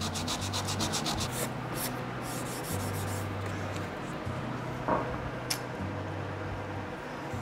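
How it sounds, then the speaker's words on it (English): Sandpaper rubs along the grain of a hardwood surface in steady back-and-forth strokes, a close, soft, continuous scratchy hiss with a low rhythmic undertone and no talking. "when you're sanding, always sand with the grain"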